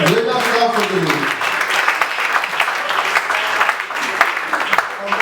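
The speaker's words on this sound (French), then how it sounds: "Let us clap for the Lord." A church congregation claps for the Lord at a French-language sermon, loud steady applause filling the room while a voice speaks over the opening seconds.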